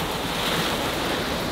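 Ocean waves wash up on rocks along the Hawaiian shore, a loud, continuous rushing surge close by, mixed with gusty wind buffeting the microphone.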